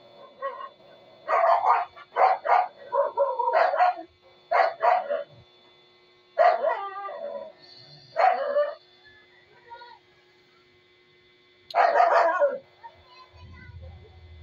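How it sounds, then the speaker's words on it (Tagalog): Household dogs barking outdoors at something they see, a series of sharp bursts in irregular clusters with pauses between, fairly near, plus a soft whimper, with a person talking at moments. "Ayun nga aso namin, may nakikita yan."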